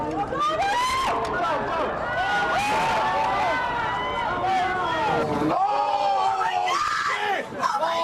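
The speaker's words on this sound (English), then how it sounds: "the soundtrack is usually covered by the screams of those standing around the camera" A dense crowd of bystanders near the camera during the September 11 attacks yelling and screaming continuously, loud and close, with overlapping voices throughout.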